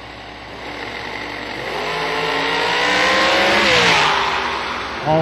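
Drag racing car launching from the line in the right lane on an M&M chassis, engine note rising steadily into a loud, near roar that sweeps upward over about five seconds, with no talk over it.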